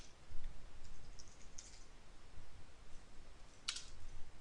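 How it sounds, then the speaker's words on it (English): Computer keyboard typing, faint scattered key clicks at low level over a quiet room hum, with a sharper click near the end. "Can't even talk when I'm typing."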